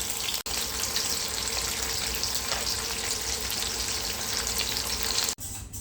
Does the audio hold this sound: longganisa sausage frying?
yes